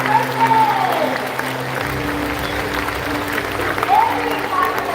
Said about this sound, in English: Big round of applause to the past president.